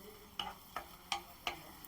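Onion-tomato masala with Kashmiri chili and turmeric being sautéed in oil, with four distinct spoon-stirring scrapes at a steady pace over a faint background sizzle, close and fairly quiet.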